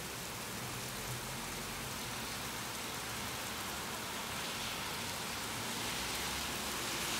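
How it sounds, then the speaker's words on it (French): Torrential rain pouring down in Lille, northern France, a dense unbroken hiss of heavy rainfall on surfaces, steady and loud throughout with no voices. "Ah, pluie torrentielle."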